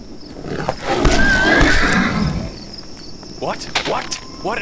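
Horse in the video game Parasomnia giving a loud neigh at night, a drawn-out whinny followed by shorter snorting calls, set against a constant chirping of crickets.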